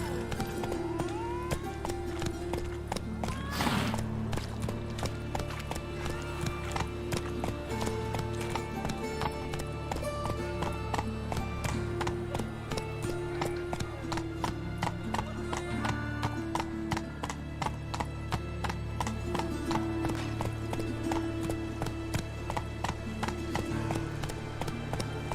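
Roach the horse gallops in The Witcher 3, with steady, rhythmic hoof clip-clops under continuous game music and ambience, and a brief neigh near the start.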